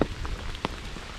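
Rain patters steadily on a wooded Appalachian Trail section near Tinker Cliffs in Virginia, a soft continuous hiss with a few distinct drops landing nearby, and no talking.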